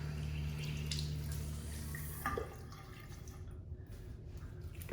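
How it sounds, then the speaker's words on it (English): Water runs and splashes at a bathroom sink as a face is rinsed, a steady close wash that thins out partway through, with no talking. "let me just rinse my face."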